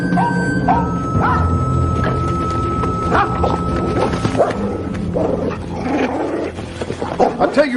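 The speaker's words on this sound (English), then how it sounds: "We'll call that dog off if you keep your seat." A dog barks and snarls in sharp, loud bursts close by, mixed with growling and shouts of men in an outdoor confrontation scene from a 1992 Western film.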